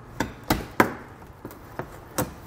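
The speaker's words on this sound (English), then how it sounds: "You can grab a trim tool or a flathead screwdriver. Just going to pry underneath them and pull them out." Plastic pushpin fasteners snap loose as a trim tool pries them out from a 2020 Kia Sorento's underbody, giving sharp clicking pops spaced irregularly, about six in a row, moderately close and quiet.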